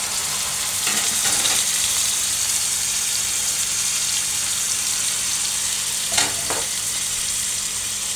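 Snake gourd fries loudly in a pan with ginger and onion paste, a dense, constant sizzle broken by a couple of brief stirring scrapes.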